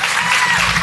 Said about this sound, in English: So please give Bryan and Leandro a big warm of applause.